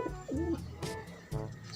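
Imported line pigeons cooing in a loft, a few soft throaty coos close by with brief gaps and a low background rumble.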